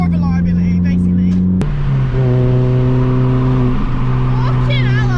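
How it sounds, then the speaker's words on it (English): Mini Cooper fitted with a loud Cobra custom exhaust, the engine droning close by with a steady low tone, a sharp blip partway through, then settling into a deeper idle while people talk over it. "His car sounds sick now, though."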